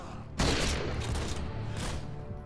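Barrett .50 cal sniper rifle fire in Modern Warfare 2 Spec Ops, a sudden loud blast that rolls into a sustained booming rumble with faint voices underneath.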